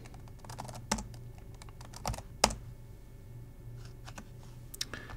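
Keystrokes on a computer keyboard during repeated login attempts, a quiet, irregular patter of clicks with a few sharper, louder key presses scattered through a calm room.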